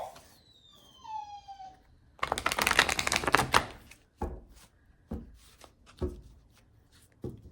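Cards riffled and shuffled in a quick burst of dense crackling, followed by several softer taps and slaps, close by, with no talking.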